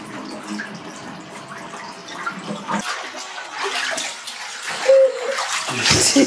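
Bathtub filling from the tap at bath time, a steady rushing and splashing of water close by with small drips and clinks, growing slightly louder toward the end.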